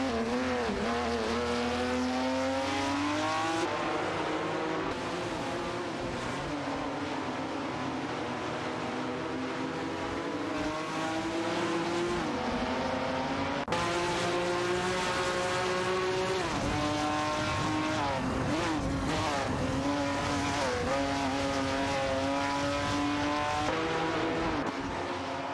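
Race cars in an AI racing video game roar past continuously for about 25 seconds, high revving engines rising and falling in pitch with shifting gears, steady and loud with no talk.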